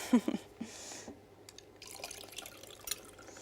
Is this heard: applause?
no